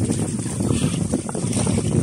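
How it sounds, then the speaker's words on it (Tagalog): Strong wind buffets the microphone in a continuous, rough roar with gusty swells, no talking heard. "pag ganitong oras talaga lumalakas yung hangin"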